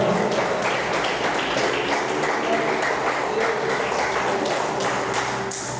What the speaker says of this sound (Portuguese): Vamos aplaudir o Senhor por essa palavra.